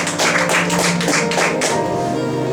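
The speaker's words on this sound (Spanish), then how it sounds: "Denle un aplauso al Señor." A church congregation applauding together, steady dense clapping that is loud and close, then thinning out toward the end.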